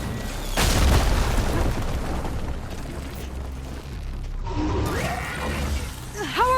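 In the video game Horizon Forbidden West, an enemy machine fires at the player and explosions boom loudly and close over a rumbling background, followed by mechanical whirring and chirps.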